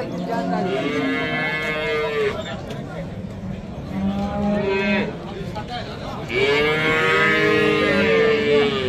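A dairy cow at a livestock market in Bazar-Korgon moos loudly and close by, giving three long drawn-out calls with brief pauses between them, over a steady murmur of background voices.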